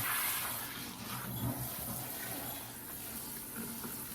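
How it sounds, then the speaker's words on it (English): Water runs from a tap in a steady, splashing stream, fairly close, with a faint rustle of movement over it. "Turn on some water."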